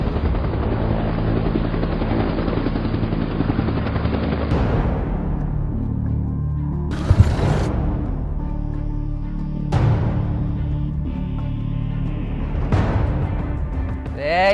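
A helicopter in a Telugu film sequel's action scene: a loud, steady rotor drone runs throughout, close and continuous, broken by several sharp whooshing bursts and impacts, with no one talking.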